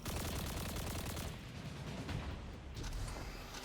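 Turrets fire continuously in the video game Destiny: The Final Shape, a dense rattling barrage of rapid shots with heavy low booms underneath, steady and loud throughout.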